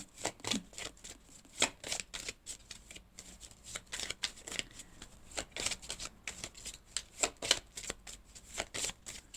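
A deck of tarot cards being shuffled by hand, close up, in a rapid run of crisp riffling bursts and soft slaps that repeat steadily throughout, with no talk.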